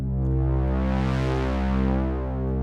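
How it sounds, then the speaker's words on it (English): A sustained Waldorf Iridium synth pad running through a 12 dB low pass filter, rich harmonic drone slowly swelling brighter and darker as the filter opens and closes, steady and close with no voices. "A little swell, like an opening and closing of the filter."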